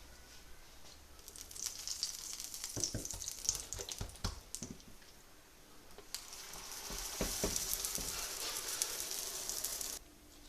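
Moroccan msemen, a flaky layered crêpe, frying in a pan: a soft, steady sizzle with crackling bursts and occasional scraping, faint and close, swelling louder midway before cutting off.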